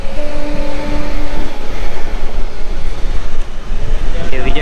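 A passenger train rumbles loudly and steadily near a sleeper class coach on a long Indian rail journey, with a brief horn tone at the start and constant wheel and track roar throughout.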